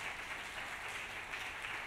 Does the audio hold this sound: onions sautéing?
no